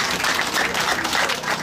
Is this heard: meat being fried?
no